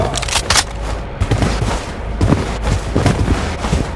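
Dense bursts of gunfire from a firefight in the video game Blood Strike, rapid volleys and single shots packed together, loud and continuous across the whole stretch with no talk over it.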